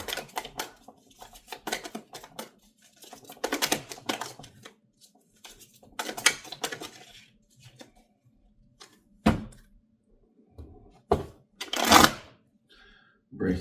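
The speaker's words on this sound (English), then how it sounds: "Could just be bad shuffling on my end." Tarot cards being shuffled by hand: bursts of riffling and flapping card noise, separated by pauses, then a few sharper single slaps near the end, close and moderately loud.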